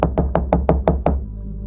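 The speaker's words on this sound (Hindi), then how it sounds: "अर्जुन ने जल्दी जाकर दरवाजा खटखटाया।" Seven quick, evenly spaced knocks on an old wooden door, close and solid, followed by a low steady hum.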